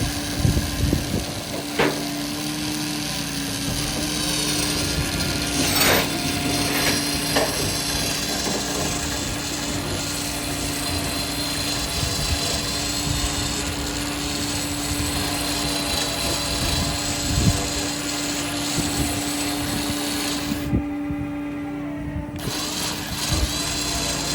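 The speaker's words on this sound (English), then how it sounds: "use my winch to pull this off. Just kind of drag it, I guess" A winch drags a wrecked 1969 Dodge Charger out of a wrecking yard, making a steady droning motor hum with a constant tone, under scattered creaks and clunks, close and continuous throughout.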